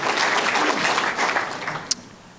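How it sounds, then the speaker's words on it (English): An audience applauds, with dense continuous clapping that tapers off over a couple of seconds. "Let's have a round of applause for the Chicago Housing Authority."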